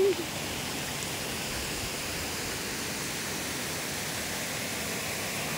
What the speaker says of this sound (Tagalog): Beautiful Arangin Falls.